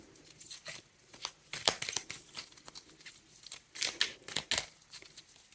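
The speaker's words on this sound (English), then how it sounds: "These cards are a bit difficult to shuffle" Tarot cards being shuffled by hand, a stiff deck that is hard to shuffle, giving close, crisp papery riffles and rustling bursts in uneven clusters with no talking.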